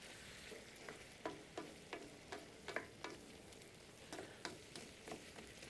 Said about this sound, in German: Es blubbert auf jeden Fall auch in der Pfanne.